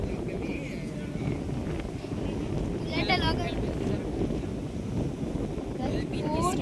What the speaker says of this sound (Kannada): ಪೂರ್ತಿ ಗಾಳಿ ಗೈಸ್.